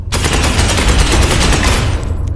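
Burst gunfire from a storm bolter in Space Hulk Ascension, a close, loud rapid rattle of shots that continues for about two seconds before cutting off.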